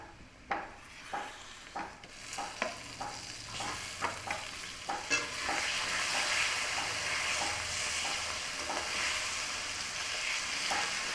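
Chicken pieces frying in a pan of turmeric and spices for Assamese chicken curry: a run of sharp stirring scrapes and taps, then a loud, steady broadband sizzle filling the second half, with no talking.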